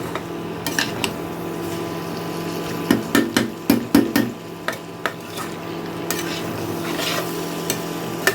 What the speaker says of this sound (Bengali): এখন এই আলুটাকেও এই মশলার সাথে খুব ভালো করে মিশিয়ে আমি দুই মিনিটের মতো ভালো করে একটু কষিয়ে নিই